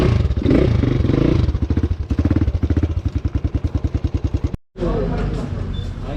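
A Honda CX250SE motorcycle idles with a loud, rhythmic engine thump, then cuts out briefly and returns with a steadier, busier engine roar, while people talk nearby.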